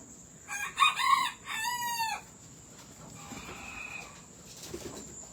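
Backyard poultry squawking, with a loud, harsh crowing call in two near bursts followed by quieter, scattered clucks and chatter fading into the background.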